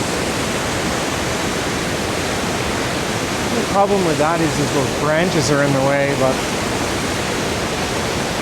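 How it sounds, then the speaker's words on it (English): Loud, steady rushing whitewater roars throughout with a broad, unbroken wash, while someone speaks briefly over it partway through. "sorry about the loud water"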